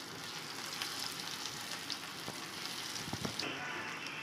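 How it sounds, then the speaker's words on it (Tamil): Vegetables for a Tamil-style fry sizzle and crackle steadily in hot oil in a pan, a close, continuous hiss with small pops, alone without talk. "எல்லாத்தையும் மீன் மாரியே ஃப்ரை பண்ணிட போகிறோம்"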